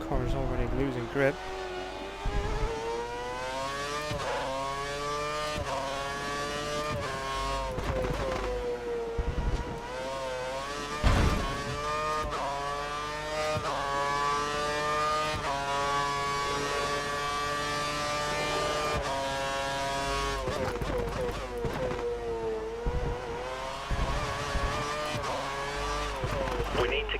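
Formula 1 car in the F1 2013 racing game on the Singapore circuit, engine note rising and falling steadily through gear changes, with brief tire scrubbing, running continuously under someone talking.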